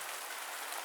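Steady rain on a night campsite, a soft continuous hiss of drops without pause or variation, even and moderately quiet with no voices.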